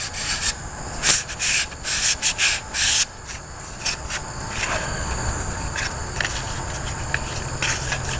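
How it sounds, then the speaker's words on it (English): Light sandpaper rubs over a green wood axe handle in close, distinct scratchy strokes, bursts at first and then a steadier, softer rasp. "This is just light sandpaper."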